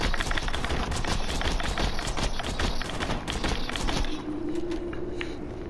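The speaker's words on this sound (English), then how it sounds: "Jacob's weapons are supposed to fire like fast as you can pull the trigger" A weak Jakobs-style assault rifle in Borderlands 2 fires a rapid, even string of loud, close shots for about four seconds. The shooting then stops and leaves a lower hum.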